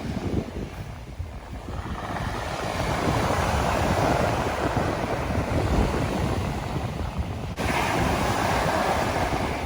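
Sea waves wash steadily onto the Black Sea shore, a continuous rushing surf roar with gusts of wind buffeting the microphone and no talking.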